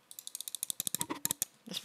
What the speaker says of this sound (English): Your mouse is really loud though.